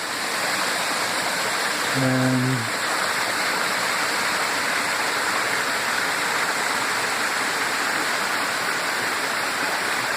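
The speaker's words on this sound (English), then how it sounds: "This is the nearest creek to the cave." Loud, continuous rushing of a creek near a cave, its water coming out of the rocks, fills the scene, with a brief spoken word cutting in near the start.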